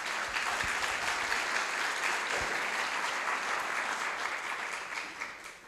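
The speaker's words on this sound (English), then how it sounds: "I think a warm applause for these guys." Warm applause for youth forum representatives at a health-systems plenary session, a dense, even roar of clapping from a large audience, holding steady and then easing slightly toward the end.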